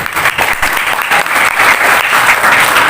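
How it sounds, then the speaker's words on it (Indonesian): An audience at an Islamic talk about Ramadan fasting breaks into steady, dense applause that stays loud and close from start to finish, with no voices over it. "Tepuk tangan untuk kita semua dulu."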